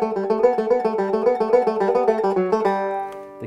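Banjo played in a three-finger style, thumb and index alternating over open strings, a steady rolling run of bright plucked notes close up with no talking, ending on a ringing chord.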